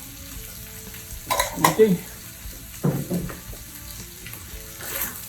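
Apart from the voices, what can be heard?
stirring frying corn with pimentos in a pan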